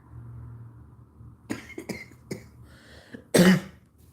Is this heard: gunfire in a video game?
no